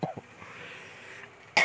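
Several short coughs from a podcast host at the start, then a quiet pause and another burst of sound at the end.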